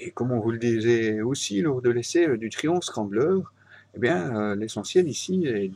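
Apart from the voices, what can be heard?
No distinct noise like a dog, phone or traffic.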